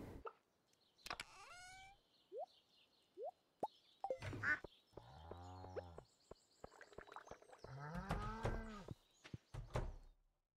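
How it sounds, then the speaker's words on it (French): Cows in the Stardew Valley farming video game moo repeatedly in drawn-out calls, mixed with short plopping and chirping game effects, clear and with no talk. "M'occuper des vaches."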